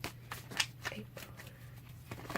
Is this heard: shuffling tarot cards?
yes